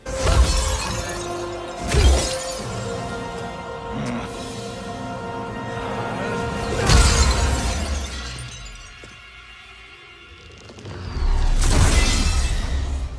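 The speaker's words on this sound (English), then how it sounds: "turns her to glass, and shatters her into a million pieces" Glass shattering as a character's body, turned to glass, breaks apart in Mortal Kombat 11: Aftermath; several loud crashing bursts with sweeping whooshes recur across the stretch, the last one heavy and sustained.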